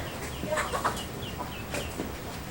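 Chickens and ducks being fed cluck and call in short bursts close by, with a few sharper squawks over a low outdoor background.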